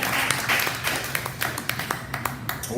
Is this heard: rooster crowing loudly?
no